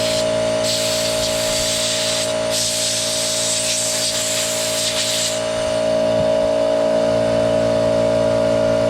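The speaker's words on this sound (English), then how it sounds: "we're going to use the air gun to clean up the key a little bit" A compressed-air gun blasts dirt from the plastic-capped key of a 2012 Can-Am Outlander 800 XMR ATV, loud close hissing bursts in two main spurts over a steady background hum, then the air cuts off.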